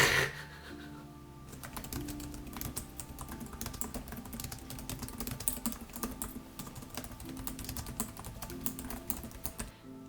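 Fast, continuous typing on a laptop keyboard, with light crisp key clicks in irregular bursts close to the microphone and no talk, over a quiet background.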